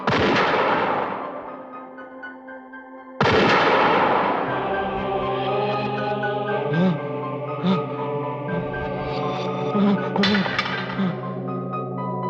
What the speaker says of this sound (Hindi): चला गोली, गोली चला चौधरी।